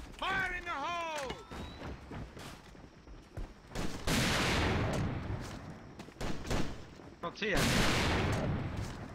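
A grenade blast in a first-person shooter game, heard as a sudden loud burst of noise after a short whistling tone, followed by more gunfire-like bursts, with a voice briefly speaking.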